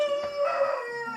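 A rooster crows in a rooster sanctuary set in the New Zealand bush of Northland, one loud, close, drawn-out harmonic call that tails off, with no talk.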